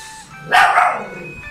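One short dog bark, fairly close, standing out against a steady electronic hum from a Hanabishi 7.5 kg automatic washing machine under repair for an E3 error.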